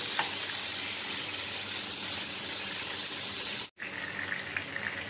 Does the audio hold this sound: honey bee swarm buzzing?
no